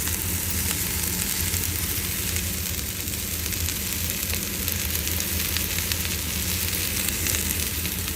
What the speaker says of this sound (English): Let's put our vegetables in.